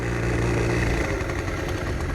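A 1980 Honda Express NC50 moped's small engine runs steadily nearby, a continuous buzzing putter at even loudness with no voices.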